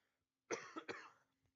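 A single person coughs twice in quick succession, a short harsh burst followed by a second fuller hack, close to the microphone in an otherwise quiet room.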